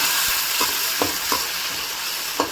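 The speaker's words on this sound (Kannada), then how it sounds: "ಎಣ್ಣೆಲ್ಲೇ ಫ್ರೈ ಮಾಡ್ಕೋಬೇಕು." Onion and tomato fry in oil for a restaurant-style mutton fry masala, with a steady close sizzle and a spoon scraping the pan in several regular strokes.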